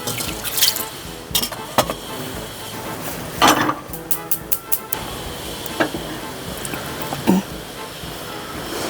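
Water is poured out slowly in a home kitchen during preparation of drumstick lentil curry, heard as uneven splashes and dribbles with scattered sharp clinks and bursts over about nine seconds, with some background voice.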